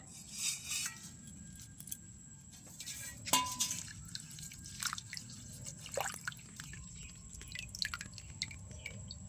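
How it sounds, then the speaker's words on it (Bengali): Rose petals being washed in water for homemade rose water, with scattered drips, small splashes and light clinks of a vessel against quiet background, no speech. "এবার এটাকে ধুয়ে নেবো জলের মধ্যে দিয়ে পাপড়িগুলো ভালো করে"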